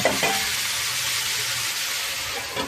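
Prawns sizzling with onions in a hot pan, a continuous loud hiss and crackle with a brief stir or clatter at the start.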